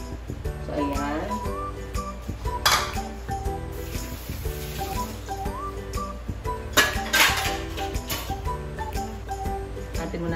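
Metal lid clinks onto a cooking pot of yellowfin tuna simmering in coconut milk with mustard greens, a couple of sharp clanks over steady kitchen clatter, with background music and a voice in the room.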